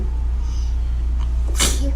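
A single sharp sneeze bursts out near the end, loud and close, after a quiet stretch with a steady low hum underneath.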